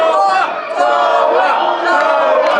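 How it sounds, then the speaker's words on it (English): A wrestling crowd at a live championship match roars and cheers continuously, a loud sustained wall of shouting voices with swells of excitement throughout. "Listen to that crowd, Jason."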